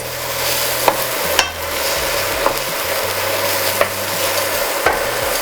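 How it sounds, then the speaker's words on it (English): Spices being stirred into pumpkin cooking in a pan, a steady soft sizzle with several sharp scrapes and taps of the utensil against the pan, close and without talk. "Just mix in the spices."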